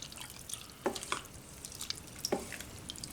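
A spoon stirs cheese and bacon soup in a pot on the stove, giving a couple of soft scrapes and liquid swishes over a faint background sizzle.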